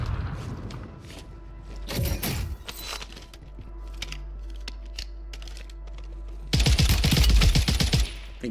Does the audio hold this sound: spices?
no